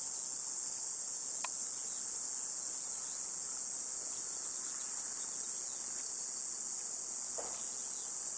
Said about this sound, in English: Cicada bugs, cicada bugs.